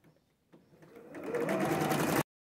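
A sewing machine stitches printed and plain cotton patchwork pieces for a six-point star, starting with a few short bursts and then running steadily and loudly before stopping abruptly.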